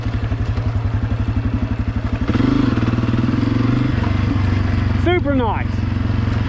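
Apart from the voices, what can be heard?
Honda CRF250F dirt bike riding on trail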